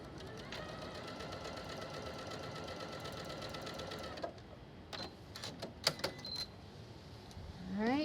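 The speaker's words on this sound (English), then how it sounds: "And sew a 1/4 inch seam." A sewing machine stitches a quarter-inch seam while piecing a sunflower quilt block. The motor whirs at a steady, rapid pace for about four seconds, then stops, leaving quiet handling clicks and rustles of fabric.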